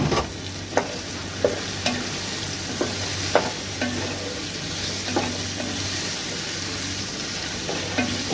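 Carrots, cauliflower and peas stir-frying in a pan for mixed vegetable rice, a continuous close sizzle broken by regular spoon clacks against the pan.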